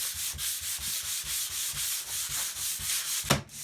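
Rhythmic back-and-forth strokes of sandpaper rubbed over wood by hand on a homemade block, steady and close with regular scratchy passes, ending in one louder scrape.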